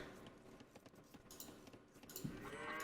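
Sheep bleating in Age of Empires, a short faint animal call among quiet game clicks and background sounds.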